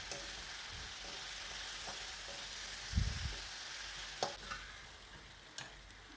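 Spice paste stir-fried in a pan, a faint steady sizzle broken by a few soft knocks and clicks of the stirring utensil against the pan, quiet and alone.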